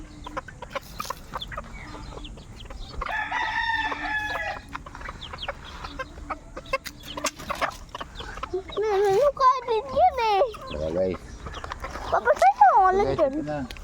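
A large flock of hungry farm chickens clucks and squawks continuously at close range, with a rooster crowing partway through, while a person talks over the birds.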